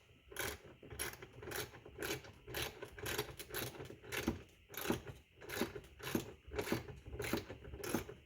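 Bolts on the power pull-down trunk lid of a 1980s–1997 Lincoln Town Car are tightened with a ratcheting tool, giving steady rhythmic clicking strokes that repeat close by with metallic rattles.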